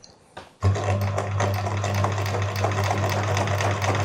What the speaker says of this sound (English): With the inside of the sewing machine foot, I'm following the edge of the strap.